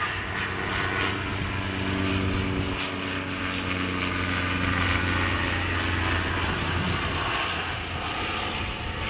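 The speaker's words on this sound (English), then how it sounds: "From the right one last time, the AN-2 Antonov." An Antonov An-2 Colt single-engine radial biplane flies past at the Geneseo Air Show, its loud, steady propeller drone filling the whole stretch with a slight shift in pitch as it passes, with no talk.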